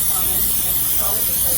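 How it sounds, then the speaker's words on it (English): Pam cooking spray hisses steadily into muffin tins, one continuous close aerosol spray lasting a second or more. "now we're going to spray our muffin tins with our Pam, and you want to spray it really well."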